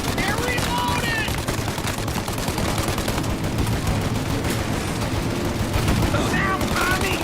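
Dense gunfire during a movie-style firefight, continuous machine-gun and rifle bursts roaring without pause, loud and close, with shouting voices partly buried in the din.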